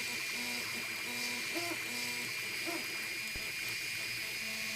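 Anet A8 3D printer partway through a test cube, laying down its internal lattice: a steady close mechanical whir with short repeating tonal stepper-motor whines and chirps as the head moves, plus one brief knock.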